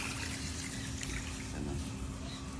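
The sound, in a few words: water poured into rice pot for cooking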